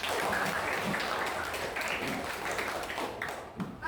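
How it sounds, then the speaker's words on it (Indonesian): Students in a classroom lesson clap together in a fairly faint but continuous burst of many hands that holds steady for about four seconds, thinning slightly toward the end. "Tepuk tangan dulu dong."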